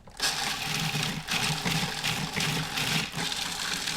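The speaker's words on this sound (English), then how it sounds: "And I'm going to puree this." A food processor pureeing basil pesto with pepper, whirring loudly in pulsing surges with a gritty, churning tone, starting abruptly and running continuously close by.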